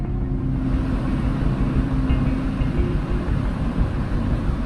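A car driving at night, its engine and road rumble a steady, continuous low drone throughout, with no voices.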